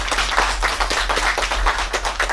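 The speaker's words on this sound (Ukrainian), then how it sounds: "оплески." Steady applause from a group of people at a fifth-anniversary cooperation ceremony with a visiting Polish delegation, dense overlapping claps that continue throughout without any voices.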